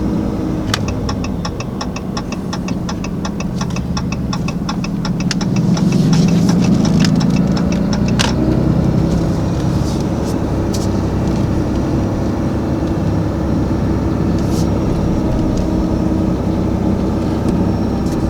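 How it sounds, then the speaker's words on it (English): A 2021 Ram 2500 turbo diesel fitted with an S&B cold air intake, cruising at low boost. A steady engine drone carries a faint turbo whine throughout, with a rapid ticking in the first half. "I can hear the turbo just sitting in there, 3 pound of boost"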